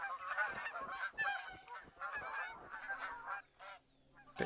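A flock of Canada geese in the video game theHunter: Call of the Wild honks repeatedly in overlapping, uneven calls, loud and close, with a brief lull near the end before another honk.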